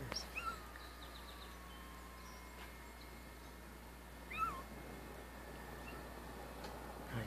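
A kitten used as bait under a drop trap outdoors gives a few thin, high meows, scattered and fairly faint, with birds chirping in the background.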